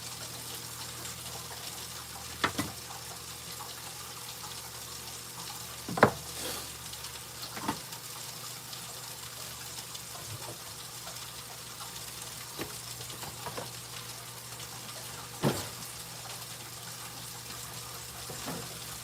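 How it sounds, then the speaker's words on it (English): A pot of food on a country kitchen stove comes to a slight boil, giving a soft continuous bubbling hiss broken by a few sharp clinks and taps, with no talking. "They're starting to slightly boil."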